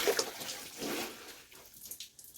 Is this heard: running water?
yes